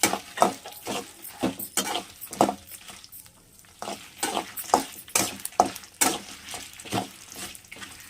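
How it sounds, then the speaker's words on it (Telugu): Dry red chillies, urad dal, chana dal and fenugreek seeds roasting in a pan over a low flame, with repeated scraping stir strokes and a soft sizzle in between, close and steady, no talking. "ఎండుమిర్చి మినపప్పు శనగపప్పు మెంతులు ప్లేట్లో ఉంచుకున్న పచ్చడి కావాల్సినవి అన్ని ఐటమ్స్ వేసేసి సన్న సగ మీద వేపుకోవాలి"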